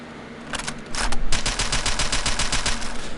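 Gunfire from a handgun in the VR shooting game Gun Club VR: a few quick shots, then a sustained rapid string of sharp, loud, evenly spaced cracks with no talking.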